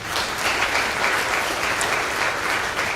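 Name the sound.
audience applause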